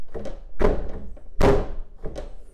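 The rear hatch of an EG Honda Civic, fitted with a new rear wiper and motor, is shut on test, giving a few heavy dull thunks with short rattling decays, two of them loud and close.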